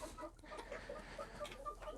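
Brahma chickens cluck in a cage, a run of short, repeated clucks close by, steady and busy over a low background hum.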